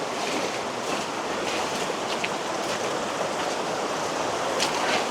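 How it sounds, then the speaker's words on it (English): Water from a creek pours steadily over rock beneath a boulder cliff on a summer hiking trail, a continuous broadband rush with light wind noise and no talking. "The water flowing over this rock is so cool."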